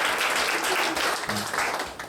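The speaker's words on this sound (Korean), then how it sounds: "우리 황지연자매 다시 한번 박수 드리겠습니다" A church congregation at a youth worship service applauds steadily for a testimony giver, a dense, even wash of many hands clapping that fills the room and tapers slightly toward the end.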